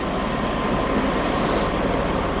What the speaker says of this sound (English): that's one of the tram vehicles running along it